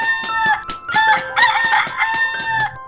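Several roosters crow in a morning farmyard, overlapping cock-a-doodle-doo calls rising and falling close by, loud and insistent with clucking bursts between them and no voices.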